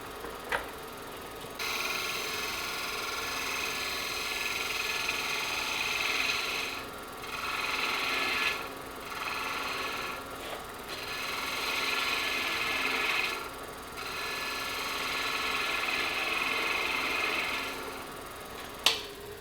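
A wood lathe spins steadily while a turning tool shapes a wooden scoop, a continuous motor hum and whirring scrape with brief dips where the tool lifts off, close and even, no talking.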